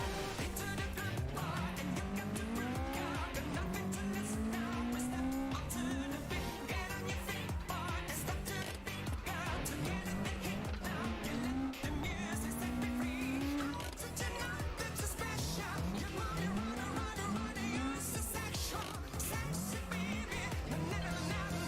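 Car in a racing video game drifting with the e-brake pulled, the engine droning loud and continuous while rising tire squeals repeat through the corners.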